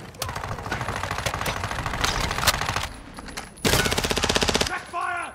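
Automatic gunfire rattles through a video game in the Koschei Complex, long rapid bursts close by, a pause, then another hard burst that stops abruptly.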